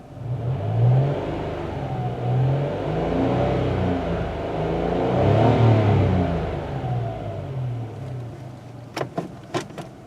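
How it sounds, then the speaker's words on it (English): A parked Mitsubishi Mirage's small engine idles and revs up and down in smooth waves, close and fairly loud, ending with a few sharp clicks. "So hear that engine purr."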